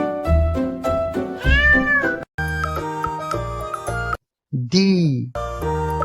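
A cartoon cat meows several times in a row, loud and close, with a short gap between the calls and a tinkling musical backing under the final drawn-out meow.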